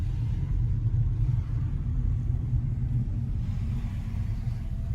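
A classic car rolls past with a steady low engine rumble that holds loud and close throughout, no clear rise or fade, and no talking over it.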